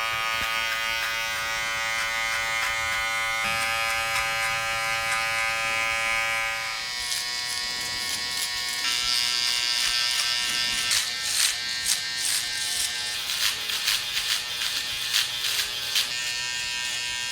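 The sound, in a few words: electric shaver shaving hair in a barber fade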